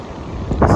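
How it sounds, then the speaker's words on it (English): Strong wind blows by a lake, a close, loud microphone buffeting with a low broadband rush that swells toward the end of a very short stretch, with no talk. "It's so windy."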